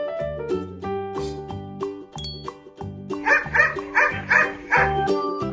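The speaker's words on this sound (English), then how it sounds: "Dog." Dog barking in a children's farm animal guessing game, several bright barks and yips repeating over a bouncy music track with a steady beat.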